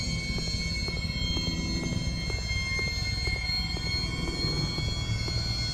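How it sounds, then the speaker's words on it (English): A robot moving in a VR game set in the Organ Quarter, a steady mechanical rumble with evenly spaced clanking beats and faint metallic tones, continuous at moderate distance. "that's the sound of the robot"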